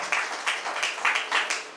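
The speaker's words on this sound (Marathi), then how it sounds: "टाळ्या वाजवून प्रभूला धन्यवाद द्या." Church congregation clapping in thanks, several bursts of hand claps in an uneven rhythm, moderately loud and brief, with no speech over them.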